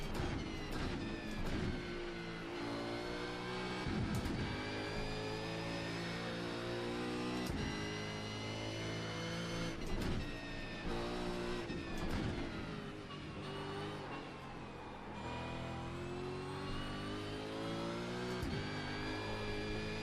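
A V8 Supercar in the iRacing sim at Bathurst revs hard through continuous harmonic engine tones, climbing and dropping with gear changes and lifts, loud and steady throughout with no talk.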